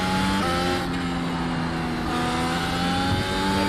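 A Mercedes F1 W13 in iRacing, its engine holding a loud, high, continuous whine with rising and falling pitch through throttle changes, close and alone with no talk.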